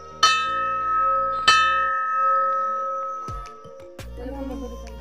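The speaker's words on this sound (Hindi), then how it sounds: "घंटी बजा रही है।" A temple bell rung by hand in a mandir courtyard during Tulsi Ekadashi worship, giving two loud ringing strikes with long humming decay, then later clangs and brief voices nearby.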